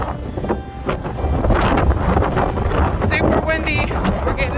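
Strong wind buffeting the microphone on the open deck of the Norwegian Sun cruise ship as it approaches port in fog, a loud, steady roar with gusty rumble throughout.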